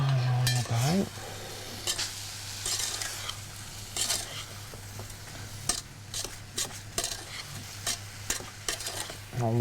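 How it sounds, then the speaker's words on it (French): Tuile batter of melted sugar and butter bubbling and foaming in a pan, with steady close sizzling broken by repeated clinks and scrapes of a utensil stirring it. "dès que la pâte à tuile commence à bouillir comme ça, enfin un beurre moussant"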